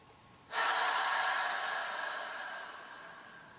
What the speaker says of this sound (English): So breathing in long and deep.